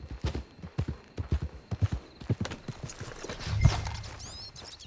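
Horse hooves in Red Dead Redemption 2 Online, a steady clip-clop rhythm of evenly spaced hoofbeats, moderately close, followed by a brief snort or whinny near the end.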